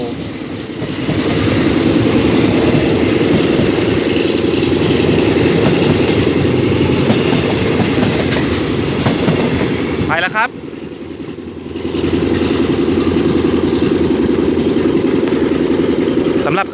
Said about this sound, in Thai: เล่งเครื่องแล้วครับ 4304 นะ